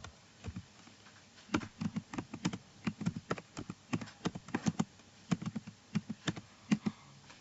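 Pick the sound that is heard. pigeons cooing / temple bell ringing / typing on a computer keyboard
typing on a computer keyboard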